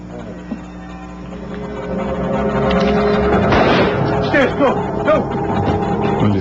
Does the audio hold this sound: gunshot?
yes